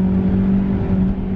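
A 32-year-old BMW M3 E30 under acceleration, its engine a steady, loud droning hum with a strong low tone that holds nearly constant over the short stretch.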